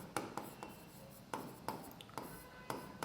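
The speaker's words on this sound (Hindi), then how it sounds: "तो यहां पर हम लिखेंगे पर्टिकुलर" Chalk or pen strokes on paper or a board during an accounting lesson, a series of short scratchy taps and scrapes in irregular rhythm, close and fairly quiet, with no talk.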